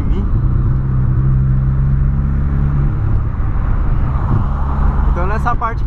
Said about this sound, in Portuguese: Os caras que tá acelerando aqui atrás de mim